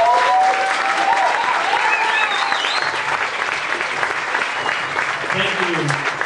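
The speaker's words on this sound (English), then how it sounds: "I very much appreciate that applause" Sustained audience applause at a talk on the neuroscience of meditation, a dense, even wash of clapping from a full room, with faint voices and a whistle-like tone threading through.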